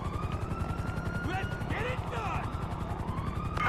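Police car siren in Grand Theft Auto V wailing up and down in sweeping tones over a rhythmic chopping helicopter-like pulse, with game noise and people speaking underneath.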